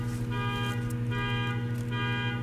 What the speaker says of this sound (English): Someone's car is beeping.